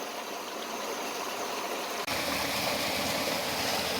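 Brown, muddy stream carrying construction run-off rushes steadily in a continuous broadband wash of flowing water, briefly dipping once midway before continuing louder and fuller.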